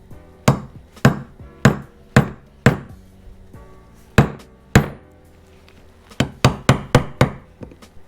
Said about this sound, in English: Gonna have to hammer on it a little bit.